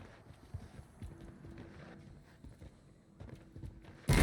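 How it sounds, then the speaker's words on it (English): Soft footsteps in Warzone, a quiet run of muffled thuds at an uneven walking pace, echoing faintly, with a sudden loud burst at the very end. "I think it was the echo of my own footsteps"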